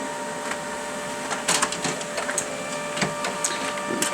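An HP LaserJet Pro 200 colour MFP M276nw laser printer runs a colour print job, a steady mechanical hum with clicks and short rattling bursts from the paper feed, heard up close.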